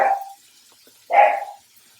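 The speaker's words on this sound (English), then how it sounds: "Sorry about the puppies in the house." Indoor puppies give two short barks a second apart, the second louder and more drawn out, fairly close, with quiet in between.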